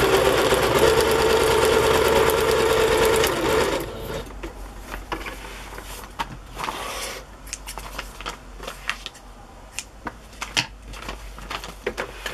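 A sewing machine stitches cloth for a Raggedy Ann-themed journal, whirring fast and continuously for about four seconds, then giving way to scattered clicks, handling taps and rustling.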